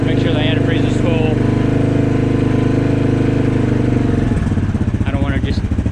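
A modified Yamaha Grizzly 700 ATV with a hot cam, ported head and Coops clutch runs steadily near at hand, a loud lumpy idle with a shift in tone near the end, while someone talks over it.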